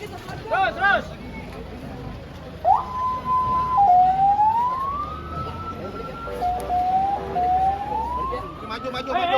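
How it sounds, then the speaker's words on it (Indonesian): An ambulance siren wails, rising and falling continuously over nearby chatter and crowd noise, loud and close, sweeping up and down in long glides, during the evacuation of a crashed Argo Bromo train carriage. "Mobil ambulan nih."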